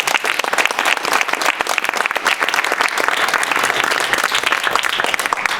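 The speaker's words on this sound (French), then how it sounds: "Un bon applaudissement." A university lecture audience claps loudly and continuously, dense individual claps close by forming a steady sustained ovation from start to finish.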